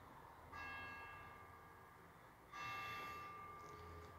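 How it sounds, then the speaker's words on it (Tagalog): A church bell rings the eight o'clock hour on a cold morning with two distant strikes several seconds apart, each lingering and slowly fading under faint ambient hiss. "Ayun, tumugtog na ang kampana."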